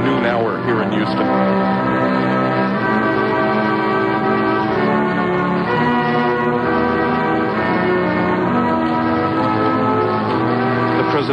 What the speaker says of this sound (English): one could hear in the background church bells tolling the noon hour here in Houston